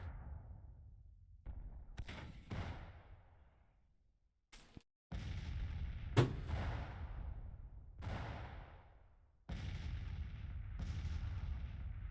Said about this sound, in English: So far, it's just been us hitting them with our artillery.